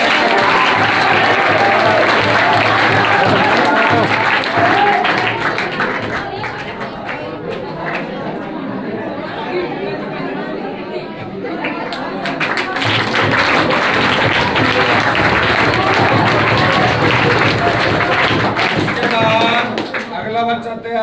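Loud, sustained applause from a crowd at a school ceremony honouring a student's board exam result, dipping briefly midway before swelling again, with voices mixed in.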